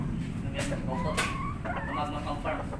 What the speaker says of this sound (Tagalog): O, yan ang mga hen.